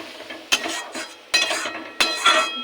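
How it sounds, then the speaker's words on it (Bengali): Spice masala is stir-fried in a pan, with three distinct bursts of scraping and clattering from a utensil working the pan, each followed by a softer sizzle, close and moderately loud. "এটাকে এখন ভালো করে কষবো।"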